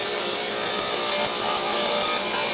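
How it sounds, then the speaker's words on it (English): A table saw rips a solid walnut board, 3 inches wide, lengthwise. A steady, loud, close-up saw roar with blade hiss fills the whole stretch without pause. "I ripped that down in 3 different pieces on the table saw."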